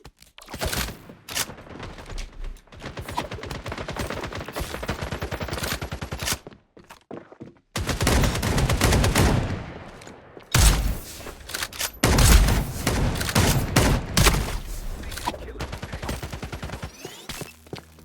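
Rapid gunfire bursts in FragPunk, repeated loud shots in dense clusters separated by brief pauses, close and sharp throughout.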